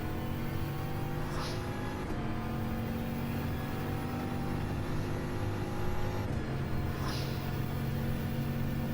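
A race car engine held in seventh gear at Monza, a steady, droning high-revving tone with a constant rumble underneath, loud and even throughout with two brief clicks.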